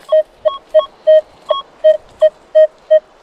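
A metal detector searching an old Cossack farmstead site in Ukraine sends out a target signal of eight or nine short, clean electronic beeps. They come at an even, quick rhythm, loud and close, with no talk over them.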